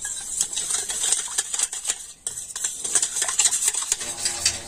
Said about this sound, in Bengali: আর এখন আমি কর্নফ্লাওয়ার আর চিনিটা এই তরমুজের জুসের সাথে খুব ভালোভাবে মিশিয়ে নেব।